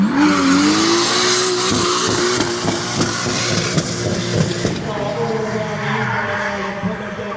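An iconic race car being driven at the Mondello Park circuit in Ireland, its engine loud and close with rising revs and harsh tire squeal, rough and sustained throughout, with crowd noise faintly beneath.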